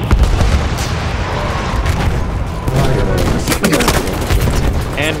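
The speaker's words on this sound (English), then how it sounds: "Rolling grenade! Watch it!" Battlefield 1 combat on the Amiens map in Operations mode: dense bursts of gunfire and booming explosions, including a rolling grenade, crackle loudly and continuously, with a voice calling out.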